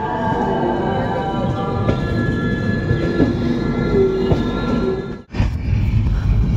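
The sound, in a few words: train moving on tracks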